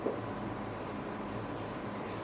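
Steady scratchy scraping of writing on a board during a math lesson, continuous and fairly quiet for a couple of seconds, with no speech over it.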